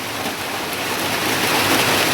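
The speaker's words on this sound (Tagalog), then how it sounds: "Ay paulan-ulan goy." Steady, dense hiss of rain falling, constant and fairly loud, with no voices.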